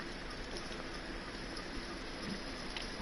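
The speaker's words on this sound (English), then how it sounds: "Okay, we got rain." Steady, soft hiss of rain in the Truck Driver video game, faint and continuous throughout with no talk.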